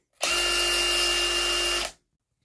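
A DeWalt power drill fitted with a Power Stack battery runs for about two seconds, a loud, close, steady electric whine that starts and stops abruptly.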